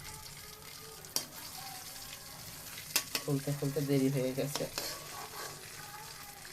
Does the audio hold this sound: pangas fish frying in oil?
yes